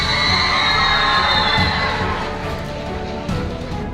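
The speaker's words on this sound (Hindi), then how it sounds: "जोरदार तालियां" An audience at an awards ceremony claps and cheers loudly for a young national and state boxing champion, with shouting and whistling voices mixed into a dense crowd roar that eases slightly toward the end.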